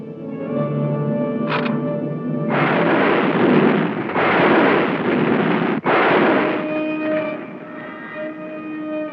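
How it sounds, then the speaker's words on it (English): Cartoon bombs go off as a long roaring rumble of explosions that lasts several seconds over a steady musical score. "Those bombs were set by Flugle."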